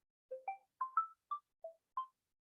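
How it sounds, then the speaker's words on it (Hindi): A phone ringtone plays as a short melody of about seven clean tonal notes rising then falling, soft and alone against silence. "जरा एक फोन आ रहा है"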